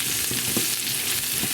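Onions sear in an oiled pan for French onion chicken thighs, giving a loud, dense, continuous sizzle with faint stirring movements underneath.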